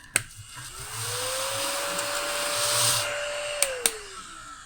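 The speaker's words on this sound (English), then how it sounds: "Get my trusty little vacuum again." A small handheld vacuum runs steadily and close by, its motor whine holding a constant pitch before winding down, with a couple of brief clicks and no talking.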